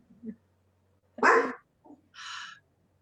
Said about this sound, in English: And Linus is barking downstairs.